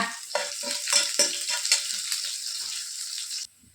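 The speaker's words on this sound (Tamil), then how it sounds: "சின்ன வெங்காயம் சேர்த்துட்டு நல்லா கோல்டன் கலர் வர வரைக்கும் இந்த எண்ணெயிலே நல்லா வறுத்துக்கோங்க" Small onions fry in hot oil until golden, a bright crackling sizzle with soft stirring scrapes, close and steady before cutting off abruptly near the end.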